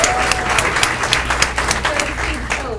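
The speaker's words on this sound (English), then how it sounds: "if we can hold the applause till I'm done reading all 30 names" Audience clapping at a school board meeting, brisk and fairly close with distinct individual claps, steady throughout before trailing off at the end.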